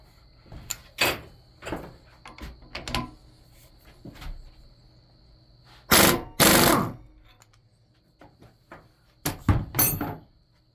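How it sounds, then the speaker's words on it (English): A pneumatic impact wrench works on a Honda K24 engine, firing in short separate bursts, with the longest and loudest rattling spell midway and a couple of quicker hits near the end, close up with quiet gaps between. "Probably really shouldn't use an impact on it, but there she is."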